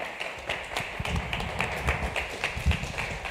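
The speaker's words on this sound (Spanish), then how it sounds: "Le damos un aplauso al Señor" Congregation applauding in a church service, a steady wash of many hands clapping with scattered louder claps and thuds, fairly close and continuous throughout.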